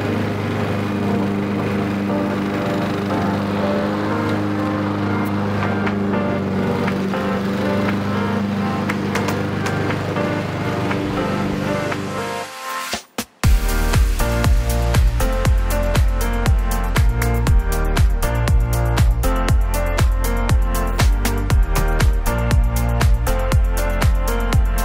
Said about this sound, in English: about halfway through mowing his lawn now